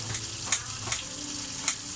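Pieces of chicken sizzle steadily in a frying pan, close and fairly loud, with a few sharp crackling pops and stirring scrapes.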